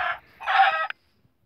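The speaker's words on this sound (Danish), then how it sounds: "En kylling." A chicken in Minecraft Pocket Edition gives a short, close cluck or squawk, then a longer burst of clucking that ends in a quick click, followed by silence.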